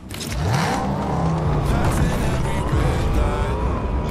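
A car engine revs hard while driving in a video game, a loud continuous whine of rising and falling pitch with tire and road noise throughout, and no talk over it.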